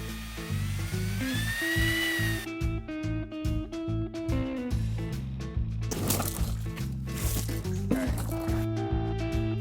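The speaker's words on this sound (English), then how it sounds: "We're gonna come up from behind and drill into the back of it a little bit" A high-pitched drill whine rises and holds briefly as it bores into a metal cargo carrier, before fading beneath loud, steady background music with deep repeating notes.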